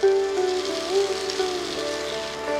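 Pre-fried cauliflower and potato go into a spiced masala, setting off a loud, close, steady sizzle that holds through the moment with a faint voice over it.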